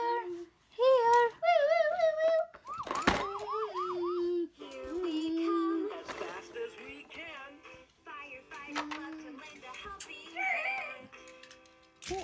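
Toy ambulance and fire truck sirens wail in repeated rising and falling electronic tones during children's play in a room, fairly close and loud, with bursts of clicking and a voice mixed in.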